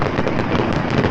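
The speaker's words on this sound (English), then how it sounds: "And if you're really lucky, you'll find some fireworks on a Saturday night." Fireworks bursting on a Saturday night over Darling Harbour in Sydney make a dense, continuous wash of crackling and popping, loud and steady with no pauses.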